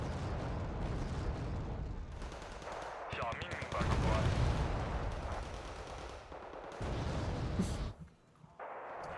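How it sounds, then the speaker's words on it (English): Heavy artillery in a video game thunders in rolling booms layered with rapid gunfire, loud and sustained, then briefly drops away near the end, with a voice talking over part of it. "That's some big artillery."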